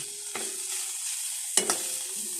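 Egg being scrambled in a hot frying pan, a steady soft sizzle with two sharp scraping stirs of a utensil against the pan, close up and without talk.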